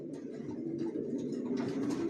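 Young racer pigeons being readied for sale coo steadily, several birds murmuring in a low, rolling drone close at hand.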